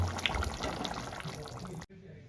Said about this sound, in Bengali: এবার আমি বন্ধ করে একটা পাত্রে ঢেলে নেব